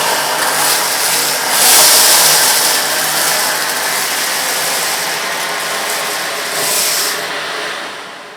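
An AEG Electrolux UltraOne cylinder vacuum runs loud and close, its nozzle tilted back as it sucks up scattered rolled oats and rice, with rattling grains and surging hiss over a steady motor roar.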